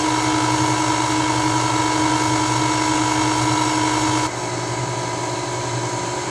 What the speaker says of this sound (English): So we'll just start this mixing, and I always start it on low and let it get combined well.